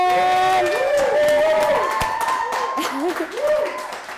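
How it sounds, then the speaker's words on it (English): Studio audience applause welcoming a talk-show guest, a loud sustained wash of clapping with voices and whoops mixed in across the whole stretch. "I know you love the applause. You're an applause man."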